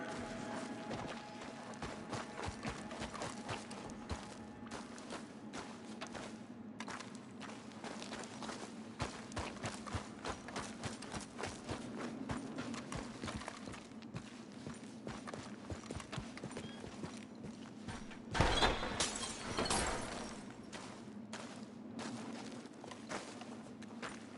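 A horse's hooves clip-clop steadily in Red Dead Redemption 2, faint and fairly distant over quiet ambience, followed near the end by a louder crash-like burst.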